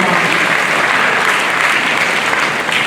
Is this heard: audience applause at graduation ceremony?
yes